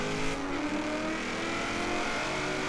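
A Chevrolet Camaro Z/28 in Forza Horizon 3 holds a steady engine drone under load during a time-attack run, its harmonics sliding slightly as revs shift, with a faint tire squeal. No one speaks.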